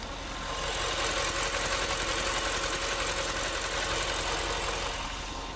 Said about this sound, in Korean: 바로 영상으로 엔진 소음 한번 담아보도록 하겠습니다